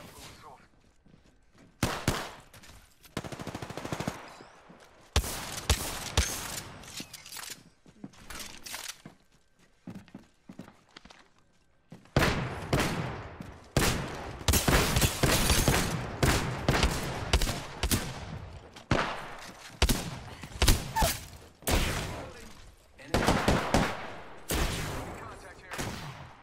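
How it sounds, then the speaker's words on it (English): Video game gunfire crackles in bursts and rapid volleys, sparse and intermittent at first, then dense sustained shooting through the second half, with footstep-like clatter between shots. "Opening fire."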